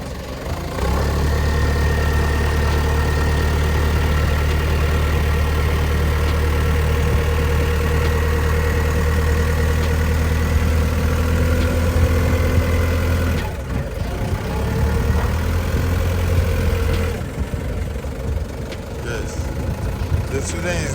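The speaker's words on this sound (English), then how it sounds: "The student is driving in the aisle, but it's narrow, so he's learning how to control the speed and the volume of the car, the volume of the forklift." A forklift drives forward down a narrow warehouse aisle, its steady mid-low engine drone running continuously near the microphone, with an instructor talking over it.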